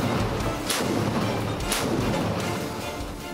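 Twin 30 mm naval guns fire from a Greek fast attack missile craft in the Aegean, giving two loud, sharp reports roughly a second apart over a steady roar of wind and engine noise.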